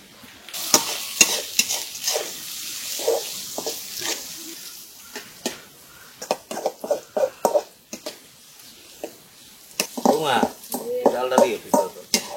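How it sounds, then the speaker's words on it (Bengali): Matka shrimp frying in a pan with onions browned in oil, with a steady sizzle and repeated sharp scraping clacks of stirring, and a voice speaking near the end. "পেঁয়াজটা একটু বাদামি কালার হয়ে গেলেই আমি মাছগুলা পেঁয়াজে দিয়া"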